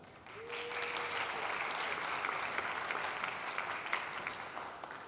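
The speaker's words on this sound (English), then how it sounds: "give yourselves a big round of applause" Audience applause at a product conference talk swells in after a brief pause and holds as a steady, moderately distant wash of clapping from a large room.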